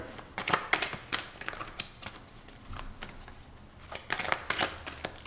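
A tarot or oracle card deck being shuffled by hand, with crisp riffling and flicking bursts coming in uneven clusters up close, quiet overall and with no talking.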